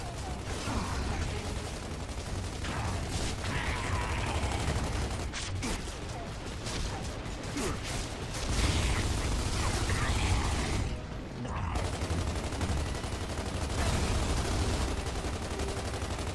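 Gunfire in the video game Gears of War 2, with sustained bursts of automatic weapon fire and mechanical clatter running almost continuously over a dense background of game noise.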